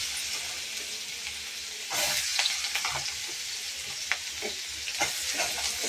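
Onions and asafoetida fry in hot oil, giving a continuous close sizzle with frequent scraping stir strokes and small clicks of a spoon against the pan.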